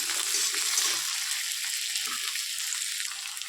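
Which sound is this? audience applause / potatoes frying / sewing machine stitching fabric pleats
potatoes frying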